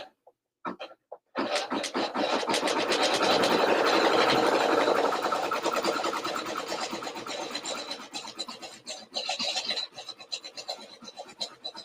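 A computerized embroidery machine stitches a nostril into a design with a rapid, steady mechanical chatter of needle strokes, close and sustained for around ten seconds before easing into a looser rattling.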